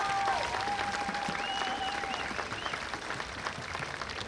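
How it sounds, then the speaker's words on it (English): Steady, dense applause from an audience honouring an Olympic gold medallist at a team event, loud and continuous for several seconds. A few whistles rise over the clapping. "give Heather a round of applause"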